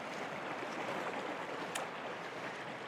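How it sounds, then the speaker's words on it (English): Arkansas River in Colorado flowing past on a morning, a faint, steady broadband wash of moving water, even and unbroken with no voices. "This here is the Arkansas River and it is flowing nice."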